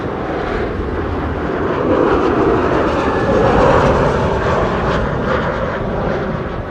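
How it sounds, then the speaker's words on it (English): An airliner lands on runway 36R at Amsterdam Schiphol Airport with a loud, close, continuous roar of jet engines and rushing air that swells slightly mid-way and then holds steady. "Landed on runway 36 right, which is the secondary runway for arrivals today."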